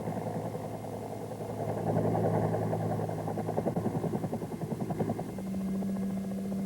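A Bell AH-1 Cobra helicopter makes a steady engine drone with rhythmic rotor thumping that builds and pulses at moderate distance during a maximum performance takeoff, with no voices.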